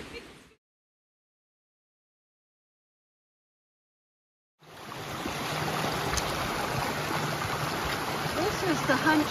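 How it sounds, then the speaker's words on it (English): Steady rushing roar of a waterfall along the Hunt Trail on the Appalachian Trail near Katahdin in rainy, windy weather, loud and continuous after several seconds of silence at the start. "This is the Hunt Trail presently. It's a lovely waterfall."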